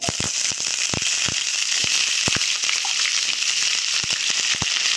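Potatoes fry in hot oil in a pan with cumin seeds, a steady loud sizzle with scattered sharp pops and crackles throughout, no voices.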